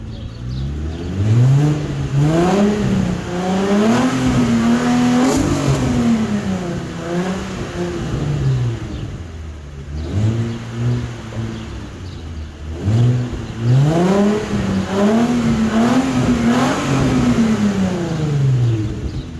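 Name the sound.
car engine revving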